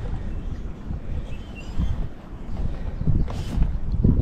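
Wind gusts buffet the microphone while out on the water in a kayak, a steady low rushing roar that swells and surges, with water sloshing near the boat and no voices.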